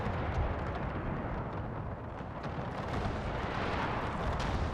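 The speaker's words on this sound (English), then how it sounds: "I'm going to order artillery strike from the guard cannons to fire there" Guard cannons fire an artillery barrage over troops in an 1866 Austro-Prussian War strategy game, dense overlapping booms and rumbling blasts rolling continuously at a fairly distant, muffled level.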